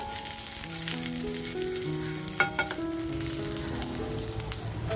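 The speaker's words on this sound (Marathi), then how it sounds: "आपण जे बटाटे घेतलेत ना ते आपण फ्राय करून घेऊया" Potatoes fry in hot oil in a pan on a gas stove, a steady close sizzle and crackle at moderate volume, with a couple of brief clinks partway through and no voices.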